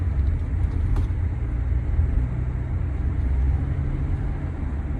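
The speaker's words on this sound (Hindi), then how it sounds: "और पिकअप आप लोग देख सकते हैं काफी जबरदस्त मिलता है गाड़ी के अंदर।" Steady, loud low engine rumble from a 2024 Toyota Innova Crysta 2.4 diesel under acceleration, a continuous drone with road noise and no talking.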